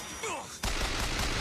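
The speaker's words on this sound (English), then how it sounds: "Hold still so I can shoot you!" Gunfire in Bioshock Infinite, a short sliding voice-like tone followed by a sudden dense barrage of rapid, loud shots that carries on to the end.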